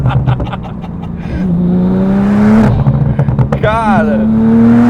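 Porsche 911 Turbo S engine revving and accelerating up through the gears, loud and close, with rising tones and gearshift breaks. Someone talks over it.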